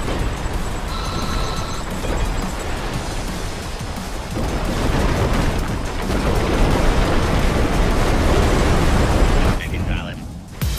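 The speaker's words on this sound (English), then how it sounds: "Tracking multiple consecutive explosions." Several explosions go off one after another in the ScreamRide video game, giving a sustained rumbling, booming roar that swells in the middle and then drops away near the end.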